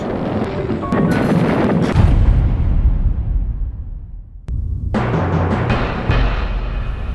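Naval bombardment from Royal Navy ships shelling coastal positions in Libya: loud booming blasts with sharp cracks that decay into rumbling, a brief lull, then another heavy burst of firing.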